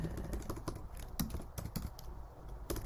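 Steady typing on a computer keyboard, a continuous run of close, quick key clicks with uneven rhythm and no voices.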